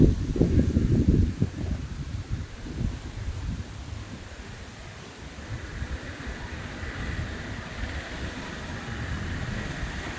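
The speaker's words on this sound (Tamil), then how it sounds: "பலத்த சூறாவளி காற்று தற்போது வீசிக்கிட்டு இருக்கு." A strong gale roars during a sudden storm with heavy rain at Koothanallur: continuous broadband rushing and buffeting that is loudest at the start, then steady and unbroken throughout.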